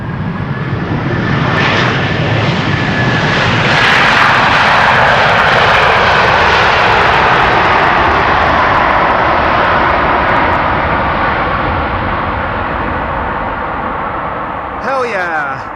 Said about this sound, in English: Delta Airlines using the reversers.